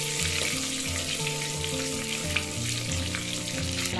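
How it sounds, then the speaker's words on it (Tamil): Cardamom pods and cinnamon fry in hot oil with a dense, steady sizzle and crackle, close by, holding an even level throughout with no voices. "ஏலக்காய் எல்லாம் நல்லா பொறிஞ்சிருச்சு"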